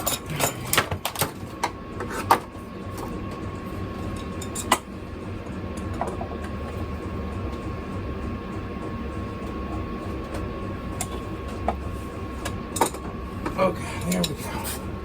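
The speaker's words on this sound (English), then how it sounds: "now we gotta put our hose clamp back on" Someone refits a hose clamp on a hose of a 2017 Chrysler Pacifica with the 3.6 engine. Sporadic sharp metallic clinks and taps sound close by over a steady low background hum.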